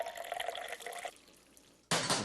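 A dessert mold is dipped briefly into hot water, giving a short watery splash and trickle, then a pause and a sudden louder burst of running water near the end.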